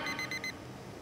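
Alarm clock ringing in four quick bright electronic bursts over about half a second, fairly faint, then stopping.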